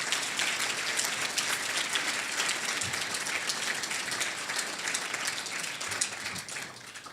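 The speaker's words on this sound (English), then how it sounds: "Give Ralph a great round of applause." Audience applause fills a hall at a chamber of commerce and industry awards gala, a steady, dense wash of many hands clapping for several seconds, moderately loud and fairly close, with no talking over it.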